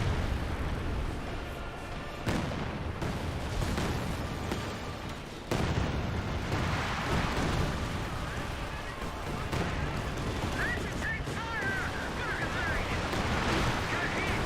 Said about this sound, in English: Looks like officer artillery there.